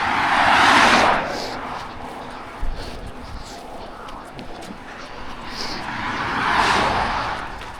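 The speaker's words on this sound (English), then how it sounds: "Way too much traffic." Cars on a road pass close by, one loud whoosh at the start and another building near the end, with quieter road noise and footsteps in between.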